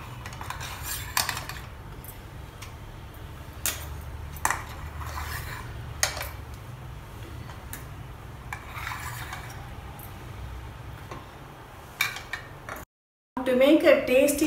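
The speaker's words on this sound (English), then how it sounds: "Just allow it to cool a little bit and now we remove the idlis." Steamed wheat rava idlis are lifted off metal idli plates with a spoon, giving scattered soft scrapes and light metallic clinks over a low steady hum, ending in a louder burst of clatter.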